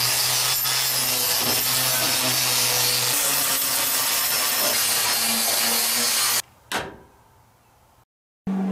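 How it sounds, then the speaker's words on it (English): An angle grinder fitted with a sanding wheel strips paint from the steel wall of a shipping container being converted into a greenhouse, a loud, steady abrasive grinding that runs for several seconds before cutting off into quieter bumps. "So I'm going to use the grinder and a sanding wheel after I get these flattened out to take that extra paint off."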